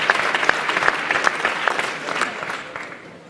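Loud, dense applause from an audience at a WHS 2017 startup track award ceremony, with distinct sharp claps in the opening moments, then gradually thinning and fading toward the end.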